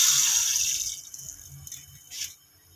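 Water poured into a pan to make sugar syrup for balushahi, a bright splashing stream that trails off into a few scattered drips and small clinks, close and alone without talking.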